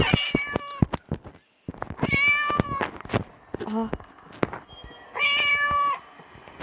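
Several drawn-out cat meows in bursts from the video game Hello Teacher, close and clear, with some clicks and scattered sounds between them and no speech.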